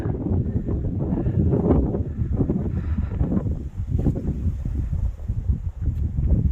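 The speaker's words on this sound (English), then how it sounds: "Now it's very blustery, as you can tell" Strong blustery wind buffets an open Devon hilltop, loud gusting rumble battering the microphone in uneven surges for the whole stretch, with no voices.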